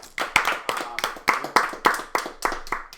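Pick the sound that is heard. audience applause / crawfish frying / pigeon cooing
audience applause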